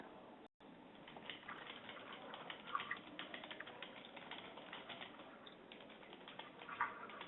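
Quiet, fairly rapid clicking of a computer keyboard being typed on, in a steady run of light keystrokes with faint room noise and no talk.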